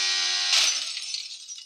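A motorcycle in the racing video game Traffic Rider crashes, with a high revving engine whine cut off by a sharp bright smash that trails away into scattered clatter.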